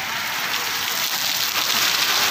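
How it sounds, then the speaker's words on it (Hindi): Heavy rain pours steadily over a campsite, a dense continuous hiss of drops drumming on surfaces, loud and close with no voices. "बारिश बारिश बारिश आ गई।"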